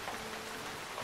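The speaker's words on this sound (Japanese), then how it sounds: "雨がザーザー降っている。" Heavy rain pours in a dense, continuous hiss, steady and close, with no other sounds over it.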